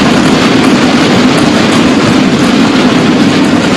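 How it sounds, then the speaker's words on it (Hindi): Loud, steady rumble of a Vande Bharat Express semi-high-speed train running at speed, a continuous roar of wheels on track that fills the whole stretch with no break. "वंदे भारत एक्सप्रेस के रूप में एक आधुनिक और सेमी हाई स्पीड ट्रेन भारतीय रेल का हिस्सा बन चुका है।"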